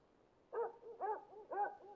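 A dog in the Persona 3 FES video game whimpers in three short, close, clean whines with a brief lower trailing whimper after each, heard alone against silence.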